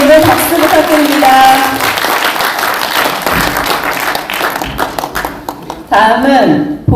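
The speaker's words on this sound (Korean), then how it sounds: "버리는 선택의 의미를 박수 부탁드립니다." Audience applause at a general assembly of a national association, clapping spread across the hall and continuing for several seconds, mixed with crowd murmur and a voice over the clapping.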